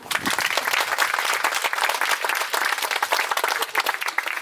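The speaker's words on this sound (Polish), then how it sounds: "dlatego bijemy mu duże brawa" A crowd of parents and children at a kindergarten graduation breaks into dense, loud applause, a steady wash of many hands clapping continuously throughout, with faint voices mixed in.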